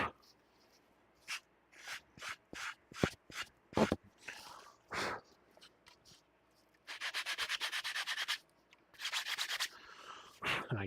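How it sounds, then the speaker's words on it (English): Hand sanding of a freshly coated surface, short rhythmic rubbing strokes at first, then longer steady scratchy passes, close and clear with brief pauses between bursts. "I'm sanding before the recommended time has passed"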